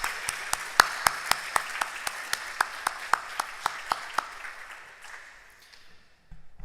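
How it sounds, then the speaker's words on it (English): A small school audience at an Easter liturgy claps in a slow, evenly spaced rhythm of sharp single claps, like one or a few people, fading into quiet near the end. "And a few more rounds of applause."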